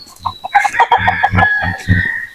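Native chickens at feeding time, with hens clucking in quick bursts and a rooster crowing nearby, the calls loud and overlapping in busy succession.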